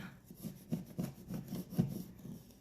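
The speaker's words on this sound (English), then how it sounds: "I switch to a scraper and I hold it on an edge to kind of bevel that" A hand scraper held on edge bevels and carves the broken edges of a plaster wall, giving quiet, rhythmic rasping strokes about twice a second, close up and with no voices.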